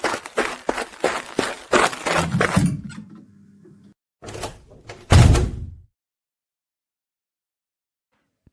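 A door slams shut hard in a horror story scene, one heavy thud after a burst of hurried footsteps and scuffling, followed by silence.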